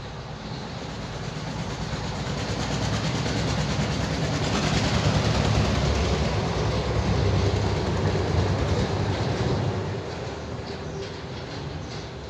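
A tractor passes by, its heavy rumbling engine noise building gradually, holding loud and steady through the middle, then easing off toward the end.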